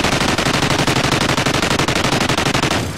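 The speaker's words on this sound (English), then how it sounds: "With this death machine that we just randomly picked up." Death Machine minigun in Call of Duty Ghosts firing a rapid, unbroken stream of loud, close shots for about three seconds before the burst cuts off.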